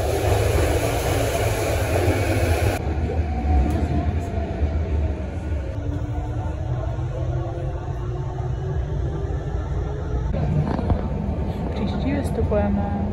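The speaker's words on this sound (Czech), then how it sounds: "tamhle je vlak. A tady teď přijede další." Train pulling into a station in Japan, a steady loud rumble with rising and falling mechanical tones and rolling noise throughout, with a voice talking over it.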